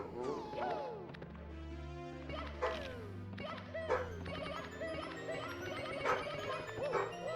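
Dogs bark excitedly from downstairs, a muffled, intermittent background sound mixed in with the music and effects of a Super Mario 64 speedrun.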